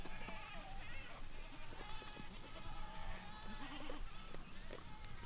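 Several goats bleat over each other in a noisy, distant herd on a farm alongside Mashona and Angus cattle, with steady rustling and movement throughout.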